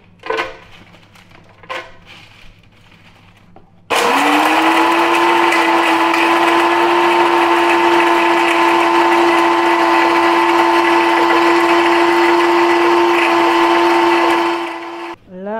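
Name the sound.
electric grinder crushing dried potato into flour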